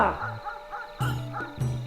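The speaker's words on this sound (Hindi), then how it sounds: "जबरा भौंकता रहा, उसके पास ना आया।" A dog barks out in the open near a field at night, giving several separate barks in an uneven rhythm, moderately loud, with a narrating voice audible between them.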